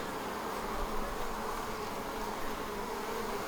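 Honey bees from a swarm hum in a steady, dense drone over brood frames in an open hive, close and continuous throughout.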